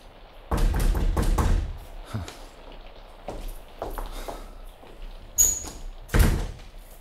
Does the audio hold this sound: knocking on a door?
yes